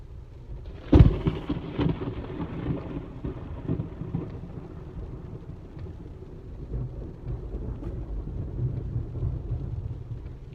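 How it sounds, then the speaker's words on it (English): A sharp, close thunder crack from a nearby lightning strike during a storm near Cranberry, Pennsylvania, followed by deep, rolling rumble that fades into steady rain for several seconds. "that's 2 close lightning strikes that were both off camera"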